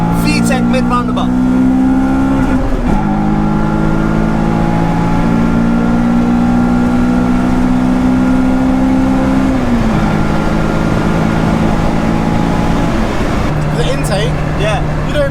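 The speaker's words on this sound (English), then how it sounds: "He hit VTEC while we're going around the bend." A track-focused Honda Civic Type-R EP3 engine revs hard around a roundabout bend, its loud, raspy note climbing through sustained rising tones with a brief shift dip midway, while people in the car talk over it.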